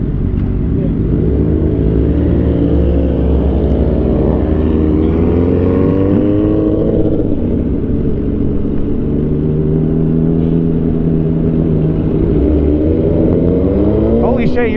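A loud, continuous engine roar from sport motorcycles, a Suzuki GSX-R1000, Honda CBR600RR and Triumph Street Triple 765, on a late night city ride, rising and falling in pitch as they accelerate, with heavy wind buffeting and rider chatter.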